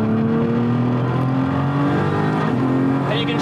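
A street car accelerates hard from inside the cabin, its engine note climbing steadily and then dropping sharply at a gear change before rising again, loud and continuous, with a voice faintly under it.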